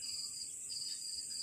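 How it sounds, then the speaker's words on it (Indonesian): Crickets chirp on a pitch-dark night, a steady high-pitched trill that runs continuously and fairly faint in the background, with no voices. "Cuaca malam hari ini gelap gulita, hanya ditemani jangkrik gendong"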